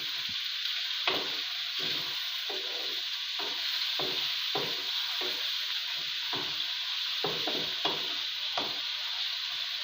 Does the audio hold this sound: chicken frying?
yes